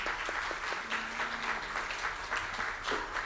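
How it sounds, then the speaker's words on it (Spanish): Steady applause from a church congregation at a Sunday service welcomes a first-time visitor, a moderate wash of many hands clapping that holds evenly throughout with no talking. "Le damos un fuerte aplauso a Karen, por favor."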